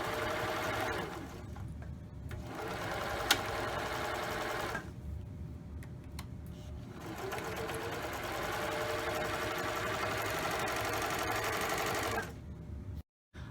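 Sewing machine running steadily while stitching the inseam of a romper, a continuous close mechanical whir with two brief pauses and a short stop near the end, no voices.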